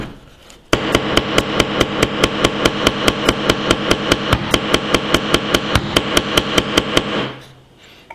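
A hammer pounding a nail into an Oukitel K4000 smartphone: a rapid, even series of about thirty loud, sharp metallic blows in a steady rhythm, close and alone, stopping abruptly.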